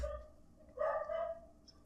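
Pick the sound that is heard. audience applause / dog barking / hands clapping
dog barking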